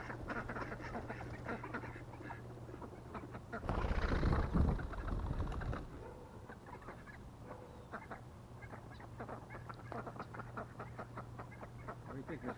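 A wood duck quacks and calls repeatedly at close range, with a louder burst of rustling and flapping in the middle and soft background noise throughout.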